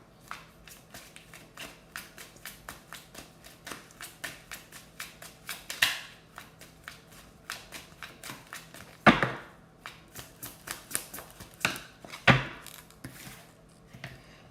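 Cards riffled and bridged repeatedly in a brisk, steady rhythm, close up, with a few louder snaps as the deck is squared.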